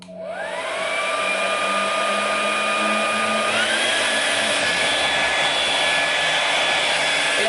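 A Primark hair dryer runs on its lowest power setting, a close steady whoosh of air with a whining motor tone that climbs as it spins up and steps higher partway through, then holds.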